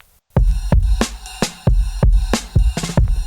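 A steady drum groove of punchy kick and snare hits in a regular rhythm, loud and close, with no other sounds.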